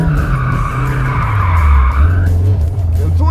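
A car drifts with a loud, sustained tire squeal over a roaring engine, heard close and continuous for several seconds as the skid rises and fades.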